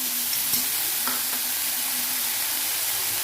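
Onion and snake gourd seeds sauté in a pan with a steady hiss and sizzle, and a few soft scrapes of stirring break through the continuous frying.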